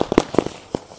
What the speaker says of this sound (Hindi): गाइस अभी भी ये पटाखे बीच में बजे जा रहे हैं